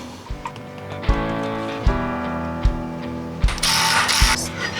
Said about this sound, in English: I'm gonna get a couple of these top bolts started, or at least one of them.